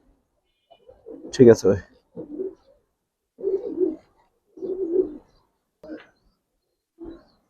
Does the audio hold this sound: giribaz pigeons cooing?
yes